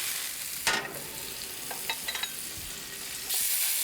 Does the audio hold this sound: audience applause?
no